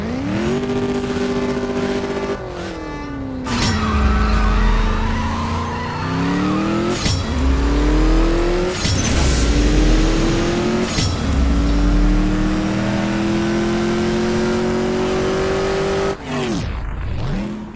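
Racing car engine in CSR Racing 2 revs loudly through repeated gear shifts, each upshift dropping the pitch before it climbs again, with tires skidding and squealing throughout, close and continuous without talk.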